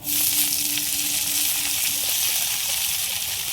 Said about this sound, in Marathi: थोडी थोडी मेथी टाकायची आणि फिरवत राहायचं.